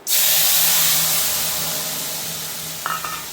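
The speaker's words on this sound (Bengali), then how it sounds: "তেল গরম হয়ে গেছে, দিয়ে দেব 2টা তেজপাতা, জিরা। মিক্সড করা মশলা এই তেলের ভিতর ঢেলে" Cumin, two bay leaves and a mixed spice paste hit hot oil with a sudden loud sizzle that slowly fades, ending in a brief clink near the end.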